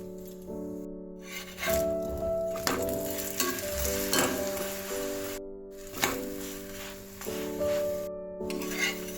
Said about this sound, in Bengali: দিকটা সেঁকে নেওয়ার পর আমি ঘি দিয়ে ভাজবো